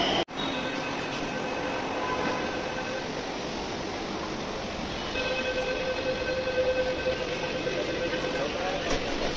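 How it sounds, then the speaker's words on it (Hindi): A metro train heads toward Khapri on an elevated Nagpur line, with a steady, loud rolling drone of wheels and carriage noise throughout. Faint tonal whines rise partway through, and no speech stands out. "खापरी जाने के लिए भी मेट्रो आ गई है"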